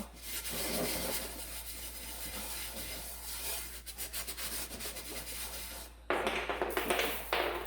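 Coarse salt scrubbed across a cast iron pan to lift burnt-on food, a steady gritty rubbing that runs throughout, growing harsher and louder near the end.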